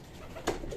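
A young racing pigeon at a loft gives a single short, close coo in the middle of a brief stretch of otherwise quiet background.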